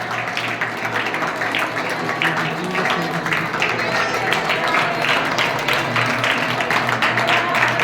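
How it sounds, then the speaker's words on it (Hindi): A church congregation claps in thanksgiving, with rhythmic rounds of hands beating together over a low background hum, moderately loud and sustained. "धन्यवाद के साथ, तालियों के साथ धन्यवाद की बेच चढ़ाए"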